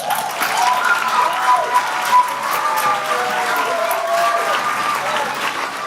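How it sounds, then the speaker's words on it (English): A Wizard of Oz stage show audience claps for the Wicked Witch at curtain call, a full, steady wash of applause with scattered whoops and voices rising over it. "Give a round of applause for the Wicked Witch."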